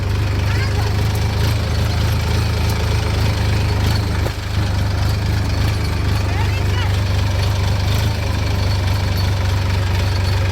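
A tractor engine idles and runs steadily close by in a farm setting, a loud continuous low rumble with a slight knocking throb that holds unchanged throughout.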